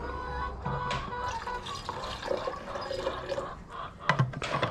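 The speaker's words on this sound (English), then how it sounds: "I'll put some hydrochloric acid in there." Hydrochloric acid pours into a funnel during gold recovery, giving a few seconds of close, gurgling, splashing liquid with small drips and a brief louder splash near the end.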